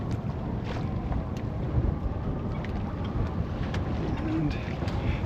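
Strong wind roars across the microphone aboard a sailboat off Mount Desert Island, Maine, a loud, continuous gusting rush mixed with water noise from the moving boat.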